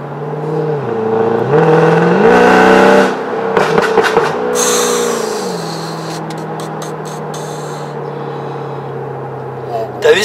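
A Mercedes C63 AMG engine revs and climbs through gears, a deep rising roar with shifts, while people talk and exclaim over it.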